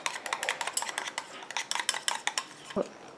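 Homemade moisturizing eye contour cream being stirred in a small container, a quick series of light clinking and scraping taps from the utensil against the vessel, close and steady, with no talking.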